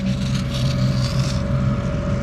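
A small fishing boat's motor revs steadily close by while catfishing with planer board rods, a continuous droning hum with no talk.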